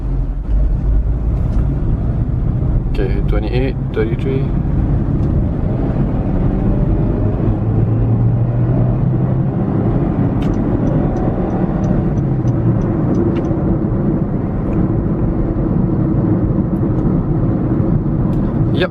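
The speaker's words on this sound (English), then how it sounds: "we're about to enter the highway and we're gonna... I'm gonna push the car a bit more" Steady, loud engine and road rumble from inside a car as it heads onto a highway under harder throttle, with the driver talking briefly over the drone.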